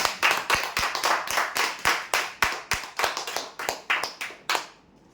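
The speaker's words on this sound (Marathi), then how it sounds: "जोरदार टाळ्या" Clapping at a weekly lucky-draw prize announcement: sharp, closely spaced claps in a quick, steady rhythm, about a dozen and a half, stopping abruptly near the end.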